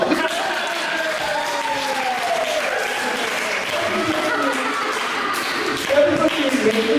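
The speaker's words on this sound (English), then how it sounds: "Give Steph a round of applause." Audience applause for Steph, a performer at a live improv comedy show, with sustained clapping and crowd noise from a full room and some voices mixed in, swelling slightly near the end.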